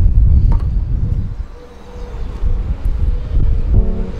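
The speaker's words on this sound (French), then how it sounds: "Est-ce que vous entendez ce vent ?" Gusty wind blowing across a balcony in Malaga, a rumbling buffeting roar against the microphone that rises and eases in waves, with faint distant traffic beneath.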